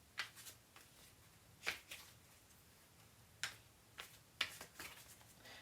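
Tarot cards shuffled by hand in a quiet room, with a handful of soft, crisp riffling bursts separated by short pauses.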